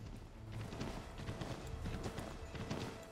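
Hooves clip-clop in a quick, steady rhythm as a horse is ridden in Assassin's Creed III, moderately close with faint game ambience beneath.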